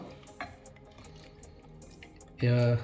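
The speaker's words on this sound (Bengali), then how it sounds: "এবার করবো এর মধ্যে জল দিয়ে দেবো, দেখি কতটা, 1 কাপ মতো জল দিলাম।" About a cup of hot water poured into a pan of fried bottle gourd, a short loud hissing burst near the end after quiet kitchen background, no talking.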